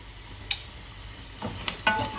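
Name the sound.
onions and mustard cooking in a pan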